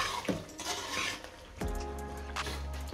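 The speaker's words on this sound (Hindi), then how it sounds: "और इसको अच्छे तरीके से मिक्स कर देंगे।" White chicken karahi with yogurt being mixed in a cooking pot, a utensil scraping and clanking against the metal in a few uneven strokes, fairly quiet and close, with no speech.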